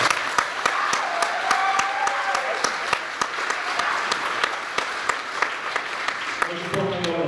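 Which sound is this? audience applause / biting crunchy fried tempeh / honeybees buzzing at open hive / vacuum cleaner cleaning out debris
audience applause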